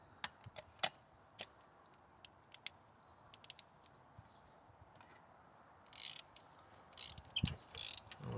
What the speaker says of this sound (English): And we can get down inside here and open our spark plugs.